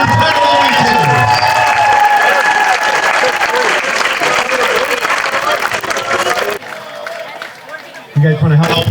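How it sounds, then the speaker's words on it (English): A large audience applauds musicians at a local dance show, loud dense clapping with some cheering and crowd babble that thins out near the end before a brief burst of noise returns. "One more round of applause for all our incredible musicians."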